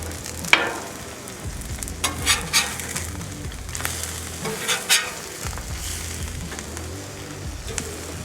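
Eggs sizzling on a hot Blackstone griddle with the burners switched off, a continuous crackling fry close by, punctuated by metal spatula scrapes and taps as each egg is flipped.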